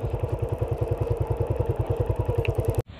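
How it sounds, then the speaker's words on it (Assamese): A motorcycle engine idles nearby with a loud, even, rapid thumping beat that runs for nearly three seconds before cutting off abruptly, as if the bike is being parked. "তো বাইক ইয়াতে ঠাণ্ডা থৈ দিওঁ, তাৰপিছত ৰখিম অলপমান ইয়াতে।"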